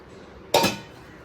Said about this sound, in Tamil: பருப்பு வெந்து வச்சு ஓப்பன் பண்ணி பார்ப்போம்.